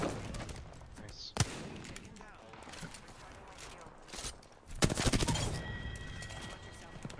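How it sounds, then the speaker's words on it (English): A sniper rifle shot in a ranked shooter video game: a sharp, loud crack stands out, with a second heavy burst of gunfire later over a busy, noisy background. "I just got sniped in the back"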